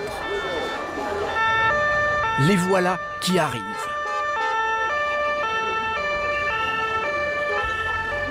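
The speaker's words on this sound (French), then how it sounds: "dans les rues, des sirènes se font entendre." Emergency sirens wail loudly in the street, several overlapping tones stepping up and down, with a voice briefly speaking over them.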